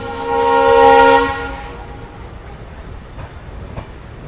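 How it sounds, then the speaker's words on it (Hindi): Antyodaya Express train departing Sonpur Junction in Bihar, its horn sounding loud and close in a steady tone for about a second and a half, then fading to a low rumble of rolling wheels with faint clicks. "बाकी अपनी ट्रेन का यहाँ से देखते हैं लोग डिपार्चर 2 मिनट हॉल्ट के बाद डिपार्चर जो अपनी बिहार के सोनपुर जंक्शन रेलवे स्टेशन से अपनी ट्रेन का।"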